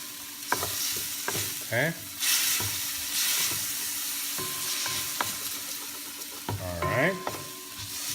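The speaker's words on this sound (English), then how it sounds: "put our pork and mix this with the onions" Pork and onions sizzle steadily in a pan for corn soup while a utensil stirs with periodic scrapes and clacks, and a voice speaks briefly over the frying.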